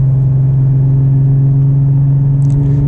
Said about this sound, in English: You hear all the gear whine, transmission noises,